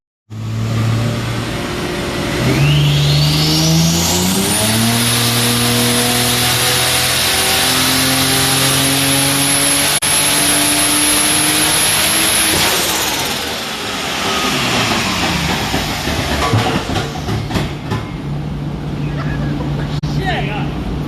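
Turbocharged Barra-engined Ford EA with an automatic transmission roars hard, revs climbing and holding high before the gearbox fails and the engine note drops away, with people talking throughout.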